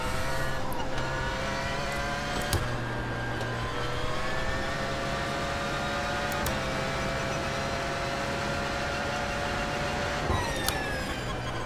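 Porsche 919 LMP1 race car in the iRacing simulator, its engine droning steadily and loud throughout with smooth rising pitch sweeps through the gears and a few brief shift cuts.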